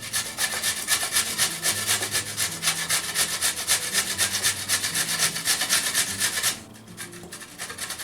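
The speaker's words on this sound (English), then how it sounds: "Next, I'll be grating the cucumber." English cucumber rubbed quickly against a grater for tzatziki, a close, steady rasping in rapid strokes that continues for several seconds before dropping abruptly to a softer scraping.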